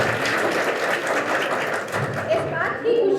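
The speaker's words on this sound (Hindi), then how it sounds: "आपके लिए जरा ताली बजाओ।" An audience claps for a child at a Varanasi Police cyber crime awareness session, a steady dense applause with a voice speaking over it and a voice near the end.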